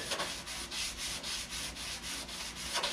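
Hand sanding with 220 grit sandpaper wrapped on a round block, smoothing a curved dent: steady close-up rhythmic scratchy strokes, about ten back-and-forth passes, with no talking.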